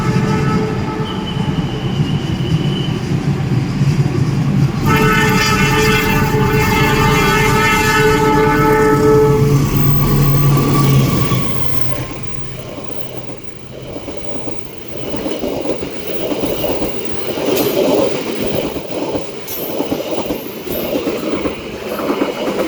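KA Pasundan New Generation passenger train travelling between Surabaya and Bandung, heard from inside as a steady loud rumble of wheels and carriage noise with rhythmic clicking, easing slightly partway through.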